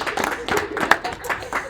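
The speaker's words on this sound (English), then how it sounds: "So yeah, round of applause." A small group claps for a cake at the close of a C++ class session, a brief scatter of uneven claps mixed with cheerful voices.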